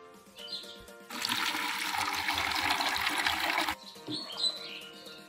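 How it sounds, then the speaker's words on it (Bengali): Water poured onto seedlings on a rooftop, a steady splashing gush lasting a few seconds before it stops, with birds chirping faintly around it and no talking. "এই যে এই চারা গাছগুলিতে এখন জল দিতে হবে"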